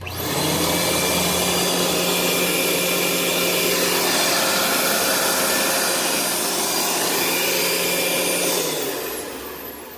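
Sanitaire vacuum cleaner running steadily with its brush roll spinning, a loud continuous motor whir and brushing hiss that winds down near the end.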